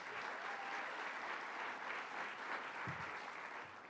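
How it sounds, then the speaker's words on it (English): Audience applause at a New York State government announcement event, a steady wash of clapping from a large room that carries on for the whole stretch and eases slightly at the end, with no talking over it. "Let's give her a round of applause."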